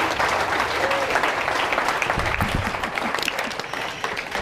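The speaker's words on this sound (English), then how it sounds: "Let's give a round of applause for all the comics you saw tonight" Steady audience applause for the comics at a comedy show, a dense, continuous wash of clapping from a crowd that fills the whole stretch without pause.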